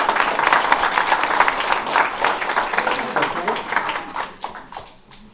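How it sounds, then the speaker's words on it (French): Sustained applause from a crowd at a Saint-Eloi festival, many hands clapping steadily and fairly close, fading out toward the end. "Je pense qu'on peut l'applaudir."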